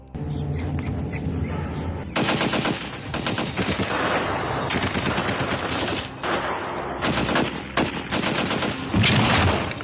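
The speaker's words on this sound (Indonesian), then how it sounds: "Pasukannya mengepung ketat, tapi tembakan mereka semuanya meleset." Loud, dense gunfire from an action film scene in which a police squad surrounds a fugitive, with long rattling bursts of automatic fire broken by short gaps.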